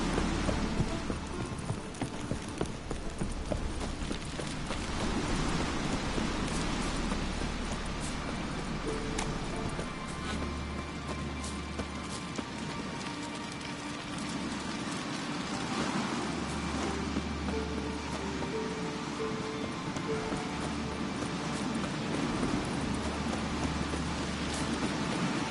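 Geralt's horse Roach gallops in The Witcher video game, a steady run of rhythmic hoofbeats over a continuous low ambient rumble.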